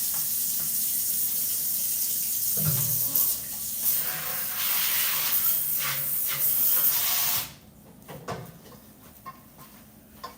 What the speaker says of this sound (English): I dump it all the way out into the strainer and then back into the pot.